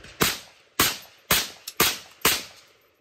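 Five sharp, loud gunshot cracks in a video game, each with a short decaying tail, spaced roughly half a second apart with one faint extra click between them.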